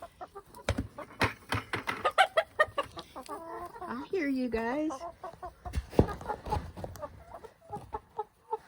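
Turkeys on a homestead carrying on nearby with a string of gobbling, clucking calls and one drawn-out warbling cry, while a person speaks briefly over them.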